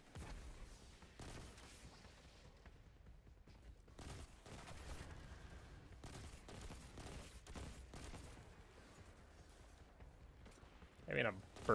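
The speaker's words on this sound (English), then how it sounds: "Having a burst hand cannon that is not Crimson is a little weird, but I dig it." A burst hand cannon fires in the video game Destiny 2, with repeated quick bursts of sharp gunshots spread through the passage amid other combat noise, fairly faint in the mix.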